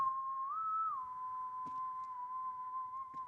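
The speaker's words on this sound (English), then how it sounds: "Someone was whistling." A lone steady whistled tone holds one pitch, briefly bending upward and back, clear and close over a quiet background with a couple of faint clicks in a game cutscene.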